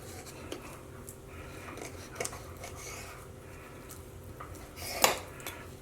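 A knife slices through pancetta on a board, a series of quiet scraping and tapping strokes with one brighter metallic scrape near the end, faint and close.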